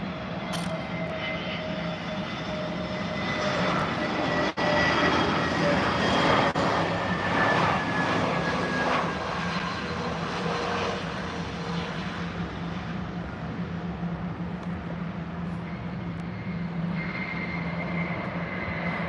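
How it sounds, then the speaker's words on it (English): An airliner landing at London Heathrow airport, its steady jet engine roar sustained and fairly close throughout, with a faint whining tone layered over the broadband rumble and no talking. "Josh landing that Wolfgang there"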